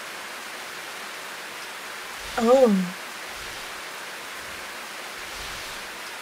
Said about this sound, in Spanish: Ha comenzado a llover.